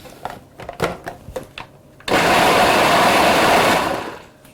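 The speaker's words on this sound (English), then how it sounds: "So I'll pulse that" Food processor pulsing sweet chilli jam ingredients: scattered clicks and knocks, then a loud whirring burst of about two seconds that winds down, close and alone.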